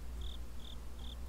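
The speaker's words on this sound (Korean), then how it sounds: "귀뚜라미 울음소리가 구슬프게 울려 퍼졌다" Crickets chirp in three evenly spaced, thin high trills, each about a fifth of a second long, faint against a soft steady background hum, with nobody talking.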